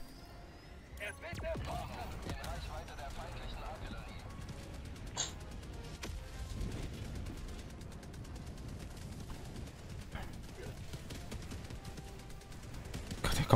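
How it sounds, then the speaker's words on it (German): Dense game gunfire from Helldivers 2, a busy battlefield of sustained shots and crackling bursts running throughout, with a voice exclaiming over the chaos. "Überall Schüsse jetzt, ey."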